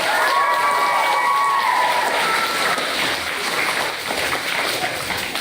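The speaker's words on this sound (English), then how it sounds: "Give yourself another round of applause." Elementary school students at a ceremony honoring Magee Elementary as a National ESEA Distinguished School cheer and clap, starting with high whooping shouts that fade into a steady wash of crowd applause.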